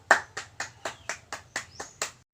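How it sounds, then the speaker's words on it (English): A classroom of students applauds in short clapping bursts, eight or nine distinct pulses in quick succession, close and fairly loud, ending abruptly. "let us give every one of us a round of applause"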